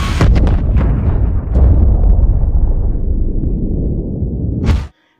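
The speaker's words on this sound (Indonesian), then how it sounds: "Di waktu bersamaan kembali lagi terjadi ledakan yang sangat besar" A huge explosion tears through the Kursk submarine in a dramatized film scene, a massive roaring blast with heavy low rumble sustained for several seconds, then a final burst before cutting to silence.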